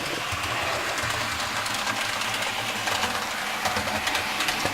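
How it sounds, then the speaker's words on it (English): A model railway Class 66 locomotive runs along the layout track, a continuous rattling clatter of small wheels over rail joints with a faint motor whine, close by and steady throughout. "Here comes the 66 again."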